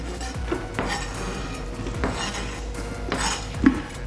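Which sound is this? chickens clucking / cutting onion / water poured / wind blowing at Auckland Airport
cutting onion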